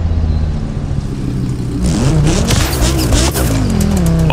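Ivory-Tower AEZUS car with 1300 horsepower and full upgrades in the racing game The Crew Motorfest, engine firing up and revving loudly, pitch climbing as it roars up close with no talking.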